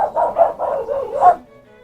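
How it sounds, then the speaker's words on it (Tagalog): A dog in rural Nueva Ecija, Philippines, barks several times in a steady rhythm, fairly close, with a short fading tail at the end and no talking. "Oh, may aso rin dito."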